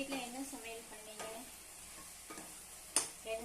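Eggplant for poriyal frying in a pan: a soft continuous sizzle with repeated spatula scrapes and one sharp metallic clack near the end, heard up close.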